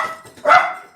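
A single short dog bark, fairly close and clear, against a quiet background.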